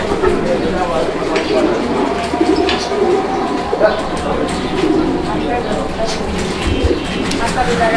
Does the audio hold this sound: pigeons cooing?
yes